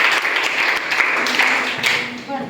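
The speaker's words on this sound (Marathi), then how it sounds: "याच्यासाठी सगळ्यांनी टाळ्या वाजवायच्या आहेत" Applause from an audience at a school quiz event, a steady mass of clapping that swells and fades over a couple of seconds with voices mixed in beneath it.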